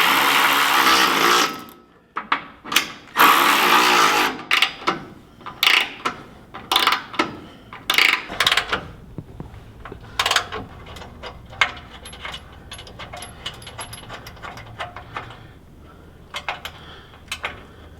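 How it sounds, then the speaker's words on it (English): Bolts being tightened on Toyota Tacoma rock sliders, a series of sharp metallic ratcheting and clanking bursts, loud and close at first, then thinning into scattered lighter clicks and taps. "What I'm doing is just tightening them evenly"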